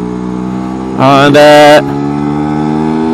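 A Lambretta scooter fitted with a Scoot RS sport exhaust idles steadily, then gives one sharp, loud rev for under a second before settling back to a close, buzzing idle.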